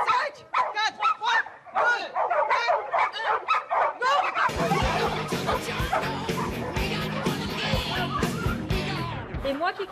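Dogs bark and yelp excitedly at the start of a canicross race, the barking rising into a dense, loud chorus of many dogs with crowd noise and voices mixed in.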